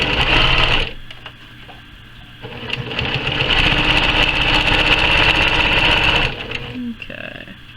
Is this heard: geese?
no